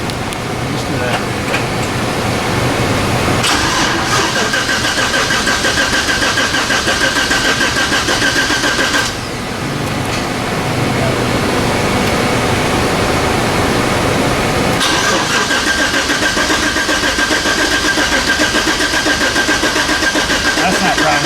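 A turbocharged LS V8 burnout truck cranks, fires and settles into a steady loud idle close by, with a few revs and brief dips as it runs, and a voice now and then over it.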